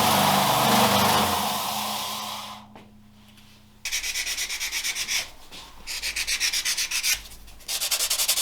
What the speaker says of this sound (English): Lots more sanding to do,